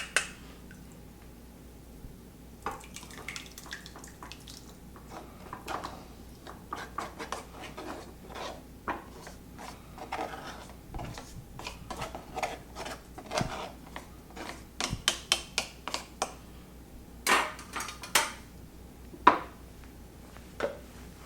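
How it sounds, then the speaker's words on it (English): Tofu curds pressed into a makeshift mold set inside a larger pan, giving scattered soft clicks, squishes and small taps that grow busier and sharper toward the end, close and fairly quiet with no talking. "we are ready to put this into our mold and press it and allow it to set up into a block"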